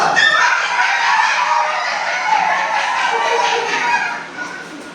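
A person mimics a chicken's clucking and crowing, a loud close voice carrying on steadily for several seconds and trailing off at the end.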